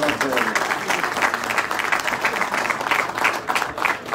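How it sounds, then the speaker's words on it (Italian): Audience applause at the inauguration of the Fontanarossa airport rail stop in Catania, a dense, steady round of clapping that runs the whole way through, with a few voices mixed in. "Quindi un applauso credo che lo debbano ricevere perché lo meritano davvero."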